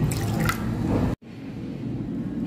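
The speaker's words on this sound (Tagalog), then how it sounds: "Idagdag ang tubig." Water is poured into a soy sauce and calamansi marinade for chicken, a close, steady trickling pour that stops abruptly, then quiet room tone.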